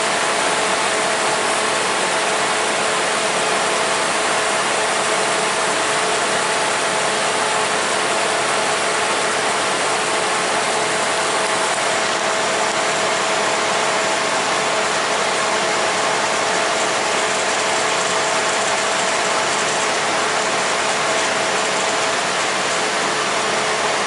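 A car engine idles steadily and continuously while Freon is added to its AC system, with a dense, even hum and a faint ticking mechanical texture, close and unbroken throughout.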